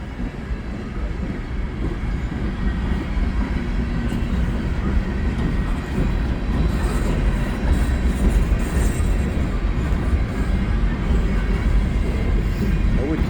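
A steady, loud rumble of a CN mixed freight train rolling past nearby at Pointe-aux-Trembles, continuous low roar with faint rattling throughout.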